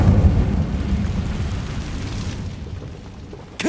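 Incendio fire spell cast in Hogwarts Legacy, a broad rumbling whoosh of flame that slowly fades, ending in a brief sharp burst.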